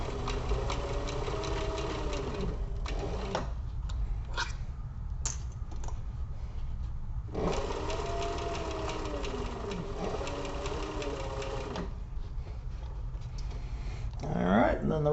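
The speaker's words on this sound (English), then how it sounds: "Now we just sew across it." An electric sewing machine stitches across the handle of a fabric toiletry kit, a close steady whirring hum in two long runs separated by pauses with faint handling clatter.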